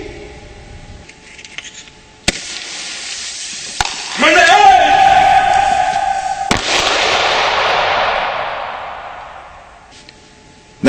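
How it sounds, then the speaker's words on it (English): A simulated hand grenade goes off during a self-defense drill against a terrorist grenade attack: sharp clicks and a whistling burst, then a loud broad hissing blast that trails away over several seconds. "this time we're going to do it with our simulated grenade"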